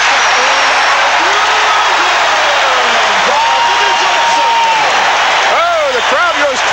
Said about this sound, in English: The crowd goes crazy with that one.